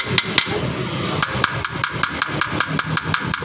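Metal tapping on the rusty, fairly thick steel frame of a Honda Vario 160 motorcycle: a steady series of sharp, ringing clicks, about four per second, close and fairly loud, with no talk.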